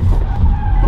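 Chevrolet Cruze Turbo tires skidding hard while drifting, a loud, continuous rough squeal and scrub over low engine rumble, close by and lasting the whole moment without pause.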